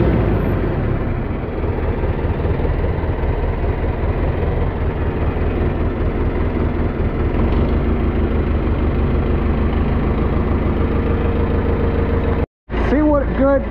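A farm tractor engine idles after a cold start, a loud, steady, low rumbling chug that runs continuously close by, briefly cut off near the end, with talking over it.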